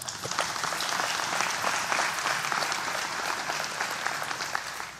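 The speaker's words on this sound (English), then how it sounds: "Let's clap for that." A room full of people claps steadily and continuously, a dense even patter of many hands holding at moderate loudness from start to finish, with no voices rising above it.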